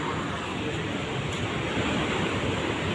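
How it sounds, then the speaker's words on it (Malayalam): Sea waves break on a rocky shore in a constant, loud, rushing roar with wind buffeting the microphone and no break in the surf. "എത്ര മനോഹരമായ തിരകളാണ് വരുന്നതെന്ന് കണ്ടോ?"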